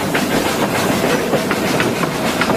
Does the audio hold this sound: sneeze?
no